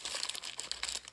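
Aluminium foil is crinkled and folded tightly around pork chops, a quick burst of close, crisp rustling and crackling with no voices over it.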